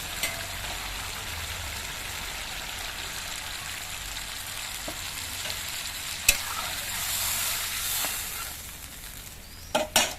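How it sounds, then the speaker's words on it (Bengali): Steady sizzle and bubbling of fish curry cooking in a pan while more broth goes in, a continuous close hiss with a few sharp utensil taps near the end, no voices. "পাঁচ মিনিট কষানোর পর আমি আর একটু ঝোল দিয়ে দিচ্ছি।"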